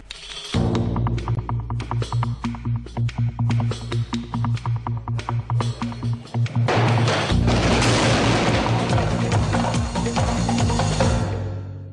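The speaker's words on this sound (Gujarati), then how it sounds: "રાજકોટ કોર્ટમાં ફટાકડા ફોડી નિર્ણયને આવકારાયો" Firecrackers burst outside a court in Rajkot during a celebration: a rapid string of loud, sharp cracks and booms, close by, rising to a dense, continuous crackling volley toward the end.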